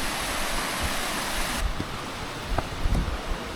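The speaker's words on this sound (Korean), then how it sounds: "시냇물 소리 너무 좋다." A mountain stream rushes along a trail on the Annapurna trek in Nepal, a dense continuous close wash of flowing water with a few small splashes near the end and no voices.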